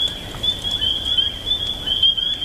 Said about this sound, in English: Whoa, I hear the peepers.